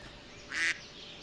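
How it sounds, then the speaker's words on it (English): A mallard duck in the Professional Fishing 2 game gives a single short, fairly faint quack over a low ambient background. "Hello, Mr. Mallard Duck."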